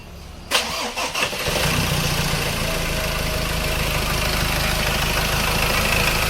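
A Ford Ranger, just repaired after a no-start fault following timing chain cover work, cranks briefly, catches and settles into a steady, close idle.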